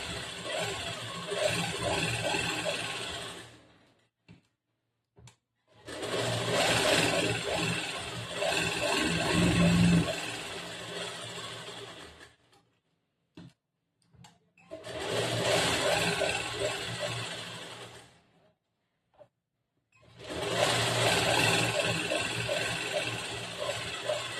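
Sewing machine stitching a back-hooks blouse in a tailoring class, running in four long close whirring bursts separated by pauses with brief clicks.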